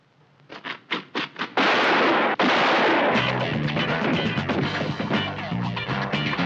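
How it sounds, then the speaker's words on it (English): A burst of gunshots rings out up close: several sharp single cracks, then a long loud barrage of rapid fire that fades into scattered echoing shots. "Let's get out of here before someone reports the shots."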